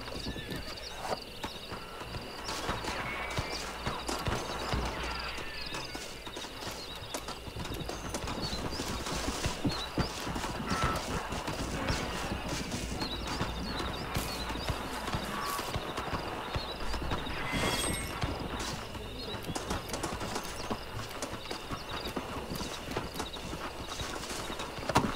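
Steady clip-clop of horse hooves in the video game Red Dead Redemption runs throughout, with a horse neighing and whinnying at moments over a busy ambient background.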